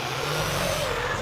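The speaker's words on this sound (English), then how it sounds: "Heads up for the hot rod diesel trucks." Hot rod diesel trucks launch side by side in a drag race semifinal, a loud, dense engine roar that holds steady for the whole short stretch with no talk over it.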